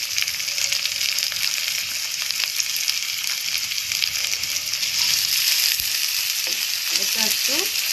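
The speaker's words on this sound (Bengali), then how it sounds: "এবারে আমরা পেঁয়াজ কুচিটা দিয়ে দেবো।" Chopped onions fry in a pan for a vegetable tadka, making a steady close sizzle with a few stirring scrapes near the end and no voices.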